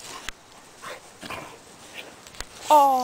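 Dogs in a backyard give a few sharp, scattered barks and low growls against quiet outdoor ambience, followed by a voice speaking at the end.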